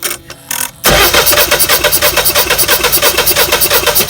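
A Generac generator engine cranks over after a few short attempts and then catches, running loud and close with a steady pulsing chug.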